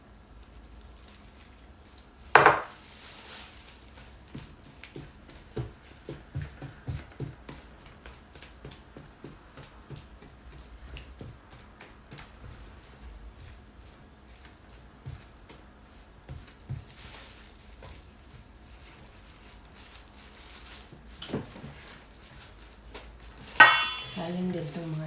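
Empanada dough ingredients, butter and two eggs, get stirred in a bowl, soft irregular squishing and scraping clicks running steadily at close range, with a couple of louder knocks and faint talk now and then.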